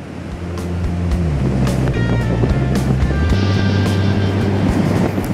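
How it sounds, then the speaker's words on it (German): Ocean waves wash onto a lonely beach at the southern end of Tasmania, a steady, fairly loud roar of surf with mixed low rumbling, no speech. "Einsamer Strand. Der letzte Strand Tasmaniens."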